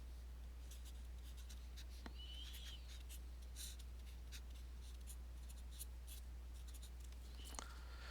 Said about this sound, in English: write down determinant here